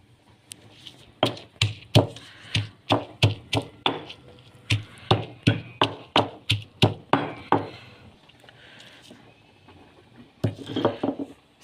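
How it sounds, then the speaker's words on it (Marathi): Knife chopping tomatoes finely on a board for a green chilli thecha: about seventeen sharp, evenly paced thunks, close and clear, then a pause with faint rustling and a short final burst of cuts. "टमाटो आता का बारीक कापते"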